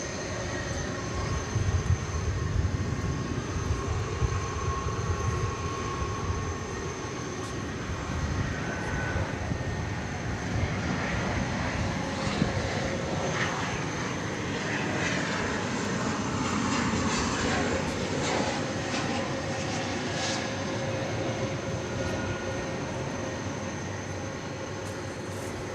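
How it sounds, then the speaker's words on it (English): An American Airlines Boeing 737-800 arriving from Nashville and landing at DFW Airport, a sustained roaring jet engine drone with a whine, steady and moderately close, with faint radio chatter. "American Airlines Flight 945 coming in from Nashville, 737-800."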